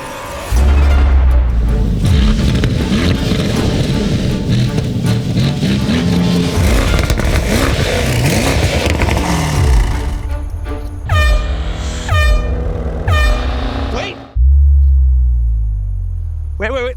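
V-8 wagons and sedans, including German cars, roar at a drag race in a dense, loud wash of engine noise. Several sharp rising revs follow, then a deep rumble after a short gap.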